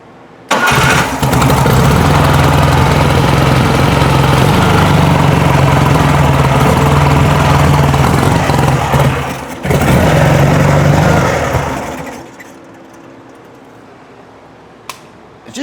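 A 1972 VW Beetle with a dual-carburettor engine fires up and idles loudly up close with a steady air-cooled rumble for about ten seconds, then stumbles and cuts out into near silence.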